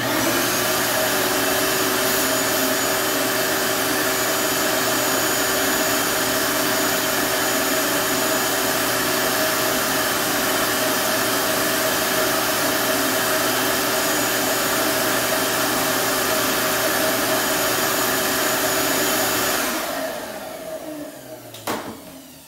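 Shop vacuum sucking dirt out of the idle air control valve and throttle body of a Honda D16Y8 engine, a loud steady roar held close for about twenty seconds before it winds down and cuts off.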